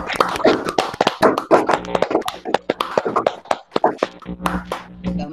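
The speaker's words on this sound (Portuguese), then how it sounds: "nós vamos pedir a todos que abram seus microfones para que nós tenhamos aí uma ampla salva de palmas" Seminar audience clapping over open microphones, a dense scatter of sharp hand claps from many remote participants, close and uneven, steady for several seconds before thinning out.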